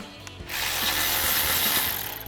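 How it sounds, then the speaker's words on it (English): A ratchet with a 15 mm socket loosens a caliper bracket bolt on a 1999–2002 Ford Mustang, giving a rapid, close clicking of the pawl in one continuous burst, alone without speech. "remove our caliper bracket using our 15 mil socket on our ratchet"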